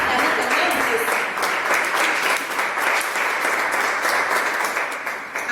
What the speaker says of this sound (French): On peut acclamer quand même ceci.